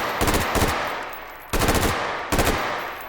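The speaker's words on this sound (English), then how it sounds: "pop this over to full auto, and I can just fire with my main hand" Short full-auto bursts from a gun in the VR shooting game H3VR, three loud, rapid rattling volleys with brief pauses between them, no talking.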